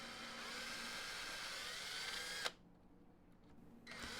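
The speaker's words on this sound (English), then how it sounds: "used a brad point bit to drill the holes" A power drill with a brad point bit whirs steadily while drilling holes, then cuts off abruptly, leaving a brief quiet before the motor spins up again.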